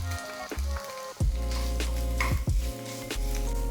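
Grated ginger and grated garlic frying over medium heat in a pan, a steady close sizzle with crackling bursts and a few soft stirring clicks, running continuously with no talk.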